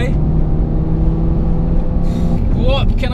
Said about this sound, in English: This is my last lap now in the TT RS Coupe